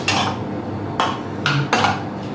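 A spoon mixes salt, half a teaspoon of turmeric powder and spices in a dish, giving four loud scraping, clinking strokes against the bowl in an uneven rhythm, close up with no talk.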